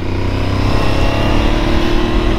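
An Aprilia Tuareg 660 motorcycle, a 660 cc bike, drones loudly and steadily under acceleration while being ridden, its engine note close and continuous with no talk.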